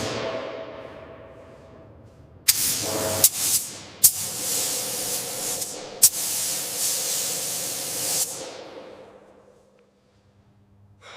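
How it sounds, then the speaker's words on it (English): Spray primer hissing from an aerosol can onto a toy tank engine, several loud bursts of varying length separated by brief pauses, close and with no talk. "He angles the spray toward edges and joints."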